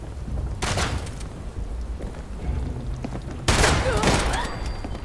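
Gunfire in the video game Fallout 76 comes as two loud, abrupt bursts, a short crack-filled volley early on and a heavier, sustained blast later, set over a constant low background rumble.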